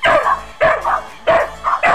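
A dog barks in a quick, close series of loud yaps, grouped in pairs with short gaps between them, heard alone without talk.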